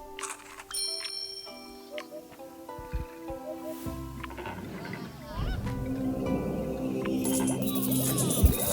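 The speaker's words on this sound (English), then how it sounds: "And another secretary bird." A secretary bird in the game Reus 2 gives repeated honking calls over a layer of sustained musical tones, and the scene grows busier and denser toward the end.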